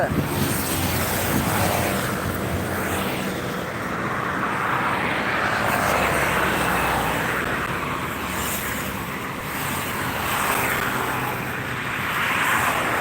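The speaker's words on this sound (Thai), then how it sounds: "เสียงรถดังไปหน่อยนะพี่น้องขออภัยเด้" Heavy two-way traffic roars across Taksin Bridge in Sathorn, Bangkok, a loud continuous rumble of passing vehicles rising and falling in waves, mixed with strong wind buffeting the microphone.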